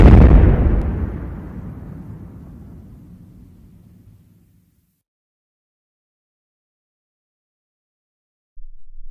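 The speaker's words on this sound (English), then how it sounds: "That reminds me of a Death Star explosion from Star Wars." A single deep explosion sound effect booms at the start, then its rumble fades slowly over about four seconds into silence.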